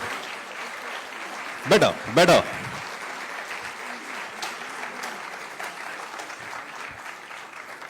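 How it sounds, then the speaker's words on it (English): Clapping from an audience at a university conference, with a couple of loud close claps near the start and steady applause continuing underneath, plus a brief spoken word. "Can you clap harder, please?"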